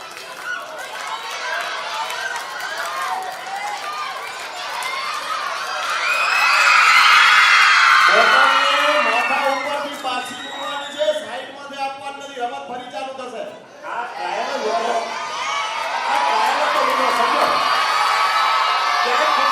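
Children at a camp race cheer, whoop and shout together in a lively outdoor crowd, with an adult voice urging them on and a short lull before the noise swells again.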